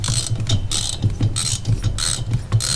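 On a 1965 Honda Dream CA95 motorcycle engine, the camshaft is turned by hand, giving a rhythmic series of close mechanical clicks and ratcheting with valve movement, repeating about every half second.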